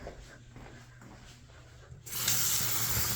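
After a quiet stretch, a sink tap turns on and water splashes steadily onto a cloth being rinsed, the flow close and fairly loud through the final second.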